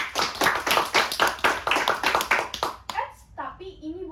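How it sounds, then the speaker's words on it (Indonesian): A small audience at a talk show claps in a quick, uneven burst for about three seconds, close and bright, then fades as a voice and other speech take over. "Mari kita beri tepuk tangannya."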